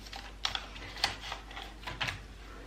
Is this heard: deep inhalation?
no